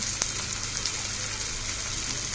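Onion and tomato fry on a pan over a high gas flame, giving a steady hiss and crackle with a few small pops that keep going without pause. No one speaks.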